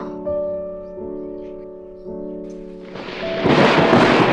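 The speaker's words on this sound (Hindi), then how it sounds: "ये अचानक से बारिश कैसे होने लगी?" Music plays at first, then a burst of thunder breaks in and steady heavy rain follows, loud and close.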